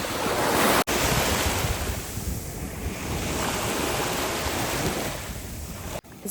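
Sea waves wash onto a quiet sandy beach at Chernomorsk near the port zone, with a steady loud surf roar and heavy wind buffeting the microphone throughout and no voices.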